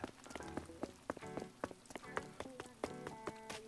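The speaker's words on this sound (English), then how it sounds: "Also, awesome rain." Rain pattering in the video game Animal Crossing New Horizons, a steady soft patter broken by frequent louder drips and light taps, with faint musical game tones underneath and no talking.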